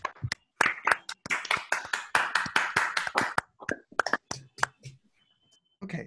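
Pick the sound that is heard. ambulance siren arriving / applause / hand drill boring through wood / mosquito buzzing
applause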